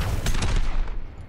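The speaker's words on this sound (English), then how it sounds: "Fire your helix rockets at the targets." Helix rockets fired in Overwatch, a quick cluster of sharp bursts and pops followed by a decaying rumble, close and loud.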